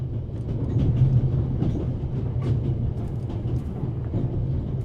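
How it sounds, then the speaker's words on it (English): A moving train in The Raven Remastered rumbles steadily with a low, continuous roar and faint rhythmic clatter of wheels on track, close and unbroken throughout. "First, I'll stop the train, and then we'll have a chat, okay?"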